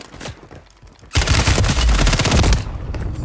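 Gunfire in the video game Call of Duty: a couple of scattered shots, then a loud, close burst of rapid automatic fire lasting about a second and a half before tapering off.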